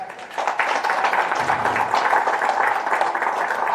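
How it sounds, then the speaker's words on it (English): A room of attendees at a Women in Maritime day event in Kisumu applauds a mentor, the clapping dense and continuous at moderate loudness, holding steady for several seconds with no speech on top. "just a round of applause for that"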